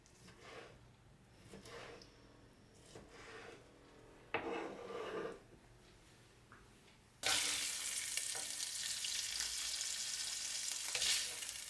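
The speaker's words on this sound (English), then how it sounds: "While the meat is searing" Meat sears in a hot pan for a ragù, with soft scraping and stirring at first, then a sudden loud, steady sizzle and crackle close up, with no voices.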